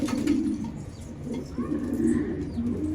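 Pigeons coo softly in low, repeated rolling calls, near and steady for the whole stretch, with no voices over them.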